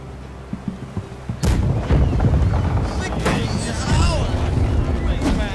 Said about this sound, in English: we'll just sink him from cannon fire again